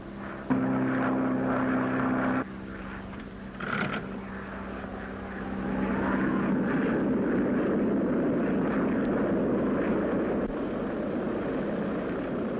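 A 1930s propeller airplane engine drones steadily in flight as ice builds on the wings, a continuous loud hum that thickens and grows rougher over the second half, with no talk.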